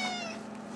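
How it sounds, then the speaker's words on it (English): A house cat gives a single short, clear meow close by, falling off quickly into quiet room tone, with no talk over it. "here's my cat"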